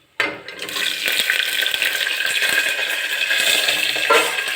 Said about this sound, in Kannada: ಸ್ವಲ್ಪ ಮೆಣಸಿನ್ಕಾಯಿ ಹಾಕಬೇಕು.